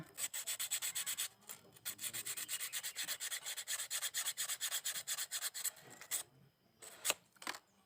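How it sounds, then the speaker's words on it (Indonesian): A wire brush and sandpaper scrub the electrode of a car spark plug from a Toyota Avanza/Xenia: fast, rhythmic, close scratching strokes in steady bursts, pausing briefly and ending with a few scattered rubs. "Caranya pakai sikat kawat seperti ini ya. Bersihkan. Lalu diamplas di bagian elektrodanya."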